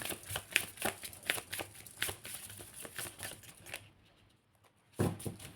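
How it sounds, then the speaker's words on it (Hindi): Tarot cards shuffled in rapid riffling bursts, crisp papery flutters close up, pausing briefly near the end before one more burst. "My last shuffle."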